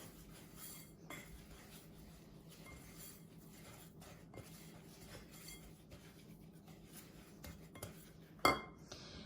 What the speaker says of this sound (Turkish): Hepsini şöyle karıştıralım